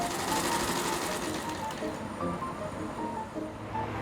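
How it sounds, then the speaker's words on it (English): A Singer sewing machine worked by a master tailor from French Saint Martin runs in a steady, close, fast mechanical chatter that continues without a break. Faint background noise sits underneath it. "It's manufactured on a Singer sewing machine by a master tailor from French Saint Martin"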